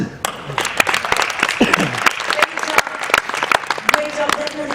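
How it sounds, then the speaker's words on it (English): Dense clapping from a crowd at a Eurovision meet and greet in Stockholm fills the whole stretch, steady and fairly loud, with a voice briefly audible over the applause. "Big round of applause."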